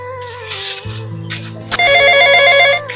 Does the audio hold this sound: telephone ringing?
yes